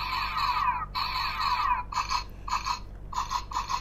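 Electronic sound effects from a Kamen Rider Faiz Driver toy belt in blaster mode: two long buzzy synthetic bursts, then a run of short, rapid zapping blasts, fairly close and clear.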